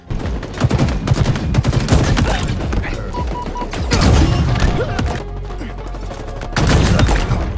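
Rapid gunfire in the video game Halo Infinite during a double-shot glitch: loud, dense volleys of shots in several clustered bursts with short lulls between them.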